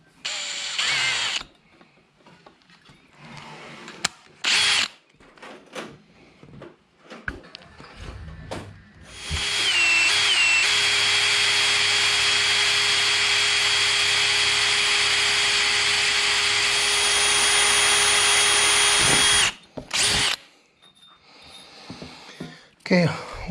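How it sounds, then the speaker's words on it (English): A power drill bores holes for a gearbox clamp in a long sustained whine lasting about ten seconds, framed by shorter bursts and handling clatter before and after. "So now we're going to drill."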